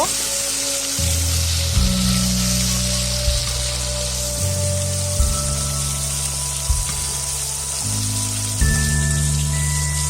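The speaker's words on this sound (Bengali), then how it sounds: "আরও কিছুক্ষণ ধরে মাছটা আরেক পিস ভেজে নেব" Small chara pona carp pieces fry in hot oil in a pan, giving a steady, close sizzle that runs the whole time beneath faint tonal background sounds.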